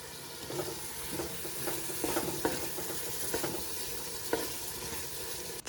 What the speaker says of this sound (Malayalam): നന്നായിട്ടൊന്ന് ഇളക്കിയെടുക്കണം.